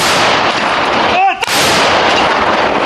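A single heavy artillery gun blast booms loudly against constant rain noise during a long rainfall near Toretsk, Ukraine, with a brief dip before the shot and a sharp crack as it fires.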